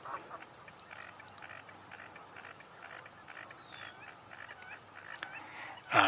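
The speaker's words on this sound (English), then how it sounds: "I think we're hearing American coots." American coots calling from a wetland on a birding tour, a steady chorus of short repeated clucks and grunts at moderate distance, with a brief louder burst at the very end.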